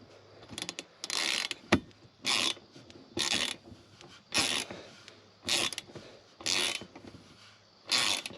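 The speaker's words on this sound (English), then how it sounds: "she'll switch over to her 1/4-inch ratchet with the 8mm to tighten it down" A 1/4-inch ratchet with an 8mm socket tightens a bolt on a Ford Bronco Molle panel, giving eight evenly spaced bursts of ratcheting clicks, close and fairly quiet, with short pauses between strokes.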